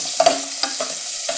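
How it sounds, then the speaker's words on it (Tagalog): Short scraping clinks of a utensil stirring chicken adobo with liver and meat in a pan, a few quick strokes over a steady frying hiss. "ang ingay naman ng ating kawali"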